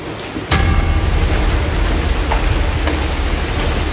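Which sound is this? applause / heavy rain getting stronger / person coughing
heavy rain getting stronger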